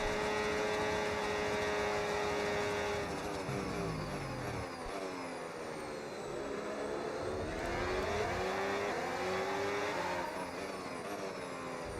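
A Formula 1 race car engine in the F1 26 video game screams steadily, its pitch climbing and dropping through gear changes, loud and close with no talk.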